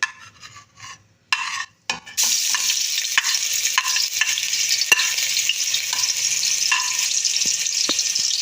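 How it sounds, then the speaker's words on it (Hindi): Oil sizzles steadily and loudly as chopped garlic and ginger fry, after a few clattering bursts at the start, with occasional scraping stirs breaking through the hiss. "हम इसको 3 मिनट तक फ्राई कर लेंगे ताकि लहसुन अदरक का कच्चापन अच्छी तरह से दूर हो जाए"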